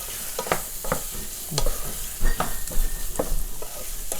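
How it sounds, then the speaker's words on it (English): Paneer pieces coated in chili powder shallow fry in a pan, with a steady oily sizzle broken by repeated clattering scrapes and taps of a spatula stirring close by. "Now we will shallow fry this."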